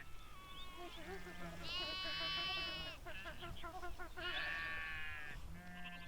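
Sheep bleat repeatedly beside a high-plateau pasture where cattle and sheep graze, the long wavering calls loud and close, with several overlapping voices and a steady outdoor hum beneath.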